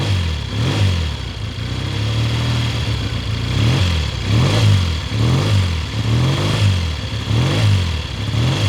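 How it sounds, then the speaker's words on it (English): A 1970 Triumph T120 Bonneville, a 650cc British parallel twin, revs repeatedly from a cold start, loud and close, with a rhythmic rise and fall of engine note over roughly nine seconds and no talk. "you can't beat the sound of a British twin being a 650cc. It really rips when you give it a few revs."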